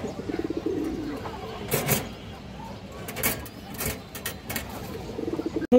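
A black-necked pigeon coos softly in low repeated phrases, with faint chirps and small clatters around it, and a voice is briefly heard.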